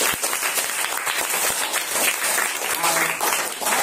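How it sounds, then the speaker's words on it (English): Classroom clapping from a group of students, a steady broadband patter of many hands lasting throughout, fairly close and even in loudness with no talk over it. "Claps."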